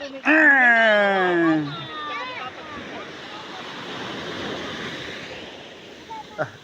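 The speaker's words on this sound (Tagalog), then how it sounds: "Lakas ng alon ah." Strong ocean waves roll in as a steady, rushing surf roar after several voices talk at the start, with the breaking water carrying on alone and a brief sound near the end.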